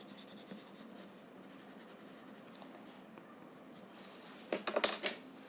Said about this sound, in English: just highlight this section where you have not added graphite with your chalk pencil